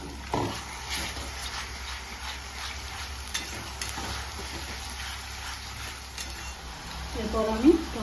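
Ginger, garlic and onion masala paste frying in a pan for spicy mutton kosha, a steady close sizzle broken by stirring scrapes and a few metallic clinks, with no voices.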